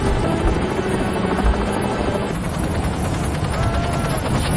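A helicopter flies toward Antarctica in the 2011 film The Thing, giving a loud, steady rotor and engine drone that runs without a break through the whole stretch.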